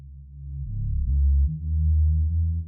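Low sine tone with a gain boost from a free VST plugin, a deep steady hum whose level swells and shifts over a few seconds, with no other sounds.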